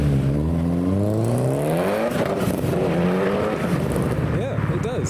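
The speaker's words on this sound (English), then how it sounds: "This Punto sounds like an S14. Let's see if we can give you a demonstration." A Fiat Punto at a car meet revs hard with rising engine pitch sweeps, then pulls away, loud and close, followed by quick blips; voices chatter in the crowd throughout.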